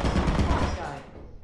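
A turret firing in the video game Lethal Company, a short rapid burst of dense gunfire that cuts off and fades within about a second.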